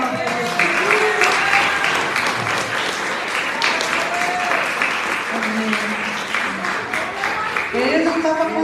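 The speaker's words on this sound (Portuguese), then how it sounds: "Uma salva de palmas para Jesus." Sustained applause from a church congregation clapping for Jesus, dense and steady for the whole stretch, with voices mixed in beneath the clapping.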